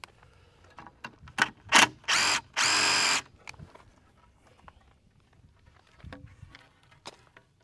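A power drill drives short T25 Torx screws into a 12x24 barn, with several quick whirring bursts, two longer runs in the middle, and scattered clicks and taps around them, no talk.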